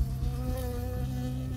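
A bee buzzing close by in the video game Firewatch, a steady droning hum with a tonal edge, continuous and without speech.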